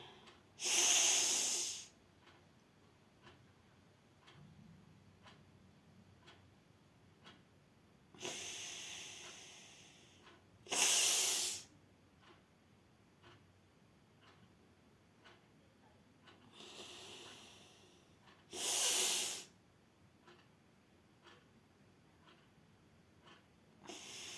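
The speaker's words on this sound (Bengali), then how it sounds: "তারপরে করবে নিঃশ্বাসের ব্যায়াম" Forceful breaths pushed out through the nose during a breathing exercise come as four sharp, hissing bursts a few seconds apart, close and fairly loud against a quiet room.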